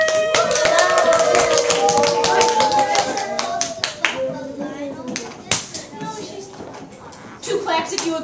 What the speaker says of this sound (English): Let's cheer for her as she comes up.